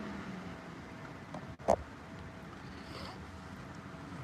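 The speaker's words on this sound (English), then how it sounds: "Pretty dang windy today." Steady broadband wind rushing across the microphone as flags blow roughly, with a brief sharp knock partway through and no voices.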